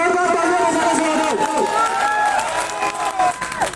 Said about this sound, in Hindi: एक बार जोरदार तालियां बजाना